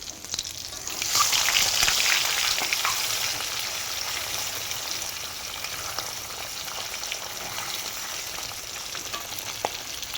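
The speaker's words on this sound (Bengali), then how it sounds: "ডিমটাকে একটু লাল লাল করে ভেজে নেব।" An egg, first coated with a little turmeric and lightly scored, hits hot oil and frying with a sudden rise of bright, hissing sizzle that then holds steady with small crackles, close and without talk.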